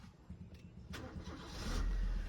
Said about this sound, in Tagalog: Check natin yung makina, bossing. Start natin.